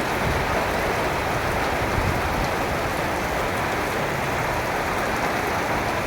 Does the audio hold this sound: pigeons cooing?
no